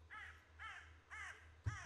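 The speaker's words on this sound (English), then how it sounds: "Stupid birds!" Crows cawing in a forest video game, four harsh caws in an even rhythm, moderately loud and with no talk, followed by a dull thump.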